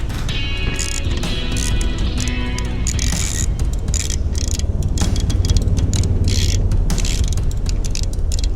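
Rapid metallic ratcheting from a hand wrench turning a bolt during a backyard engine install on an M38 Jeep, close and steady with clicks and mechanical clatter.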